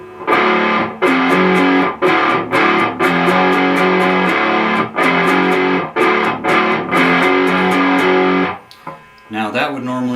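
Distorted electric guitar riff, loud and chunky with rhythmic palm-muted stops and chord stabs, played alone before a few quieter notes at the end.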